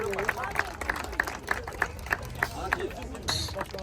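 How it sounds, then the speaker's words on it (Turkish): Crowd clapping with rhythmic beats at a closing ceremony of a beach volleyball tournament on magnetic sand, a steady series of claps over background chatter and crowd noise. "Alkışlar."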